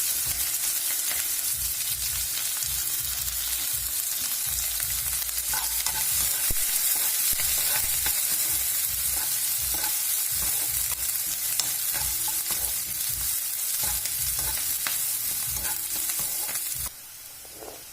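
Curry leaves, sliced onion and green chilies frying in hot oil for kanda pulusu: a loud, steady sizzle with stirring scrapes throughout, close and continuous, no talking.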